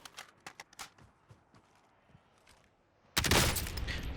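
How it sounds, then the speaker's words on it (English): A sniper rifle shot in the Call of Duty Warzone video game: a sudden loud, broadband blast that roars on for about a second after a stretch of faint clicks and rustles. "Oh, I just got sniped."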